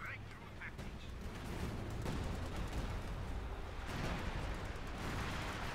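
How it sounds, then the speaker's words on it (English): Company of Heroes 2 battle with a Jagdtiger and a veteran Sturm Panzer firing: a dense, continuous wall of distant artillery booms and tank cannon fire, rumbling steadily under a commentator's voice. "Jagdtiger there firing away, close to the approaching Veteran 2 Sturm Panzer firing away as well."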